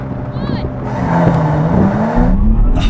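A Mercedes-AMG C43 and an Audi S5 launching hard in a drag race, engines roaring close and loud with a rising pitch as they accelerate, with voices talking over it.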